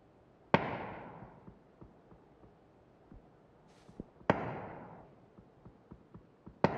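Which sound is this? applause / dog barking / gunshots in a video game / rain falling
gunshots in a video game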